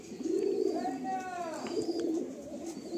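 Low cooing from a pair of Madrasi pigeons runs through a steady stretch of background noise, with a thin higher whistle-like call rising and falling partway through; the cooing sits near and moderately loud.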